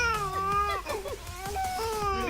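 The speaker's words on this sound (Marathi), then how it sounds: "पुस्तक बाजूला केलं की हे बाळ जोरात रडताना दिसतंय." A small child cries loudly and close up, with wavering wailing sobs that rise and fall in pitch through the whole stretch.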